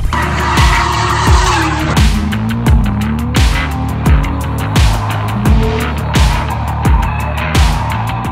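A rear-wheel drive RC drift car skids repeatedly at close range, with sharp tire squeals and a revving motor rising and falling in a rapid, rhythmic pattern.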